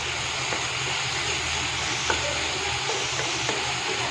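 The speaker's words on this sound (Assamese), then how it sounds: "অলপ সময় ফ্ৰাই কৰিম" Fish fries in hot oil with red chili powder, a steady dense sizzle throughout with a few faint clicks and stirs, no talking.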